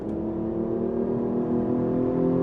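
A Hyundai Genesis Coupe's 3.8-liter V6, fitted with an intake noise generator, revs in a smooth, rising drone that builds steadily in loudness, heard close and alone.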